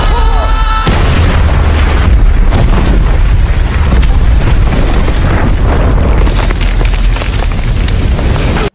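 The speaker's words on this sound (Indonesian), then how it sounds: "ledakan tersebut berhasil membuat Tiger serta Zoya terbebas dari todongan senjata" A huge, sustained explosion in an Indian action film roars loudly, a brief tonal sound cut off by a deep rumbling blast that churns and crackles for several seconds.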